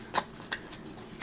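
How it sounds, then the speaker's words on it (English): A tarot card deck is overhand-shuffled by hand, giving quick soft papery flicks and slaps in an uneven rhythm, close and fairly quiet. "I couldn't really do the second half of the riffle shuffle there, but overhand, ooh, shuffle"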